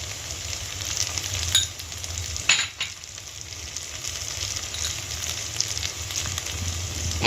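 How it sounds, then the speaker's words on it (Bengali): Ground spice masala being stirred and fried in a pan for an egg tadka produces a close, dense sizzle with spoon scrapes and a few sharp clatters against the pan, and no talking. "ভালো করে মশলাটা কষিয়ে নেব"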